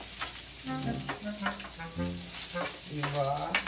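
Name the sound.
frying food in a pan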